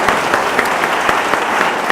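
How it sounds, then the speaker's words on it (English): Wedding guests applaud at a reception, a loud close burst of clapping with distinct individual hand claps audible in a steady patter throughout. "Give yourself a round of applause."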